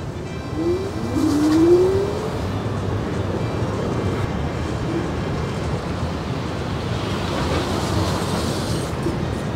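An electric motor whine rises quickly in pitch over a loud, continuous rumble of road and wind noise as a Segway GT2 electric scooter speeds up in race mode with dual-motor drive.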